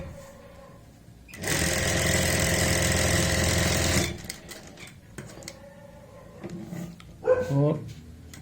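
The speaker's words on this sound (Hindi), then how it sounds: "सबसे पहले सेंटर पॉइंट की एक सिलाई लगाएंगे।" A sewing machine stitching a garment neckline at its center point gives a loud, steady burst of close mechanical whirring lasting about three seconds, with a person talking before and after it.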